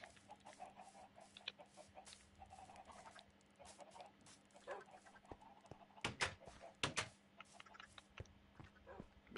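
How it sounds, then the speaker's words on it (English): Chickens in the Minecraft video game cluck in short scattered bursts, faint and intermittent against background game noise, with a few louder clucks toward the end. "All these chickens are lined up. I'll let them free."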